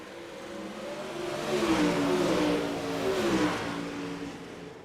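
Dirt late model race cars roar past on the last lap of a dirt track race, their engines swelling from a distance to a loud, rising rev and then easing off as they pass, with no voices heard.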